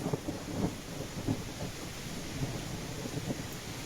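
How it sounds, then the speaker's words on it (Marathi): Heavy, steady rain roars close by, with low rumbles of thunder rolling underneath every second or so. "खूपच जोरात आणि तुफान पाऊस चालू आहे"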